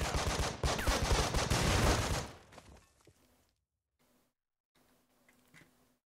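Gunfire in the tactical video game Breach & Clear, set in Mexico: a dense, loud burst of rapid shots for about two seconds that trails off into quiet with faint clicks afterward.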